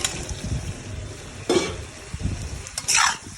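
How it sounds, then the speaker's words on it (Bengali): Okra and potatoes go into a hot frying pan, giving a soft background sizzle broken by a couple of louder hissing bursts and stirring scrapes, close and fairly quiet. "এবার আমি ঢেঁড়স আর আলু দিয়ে দেব।"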